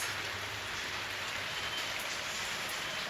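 Steady April rain pouring down, a continuous even hiss of drops hitting surfaces nearby, with no voices.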